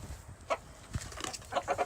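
A hen named Miss Violet, wearing a back saddle, clucks in short bursts near and fairly clear, with a few soft rustles between calls.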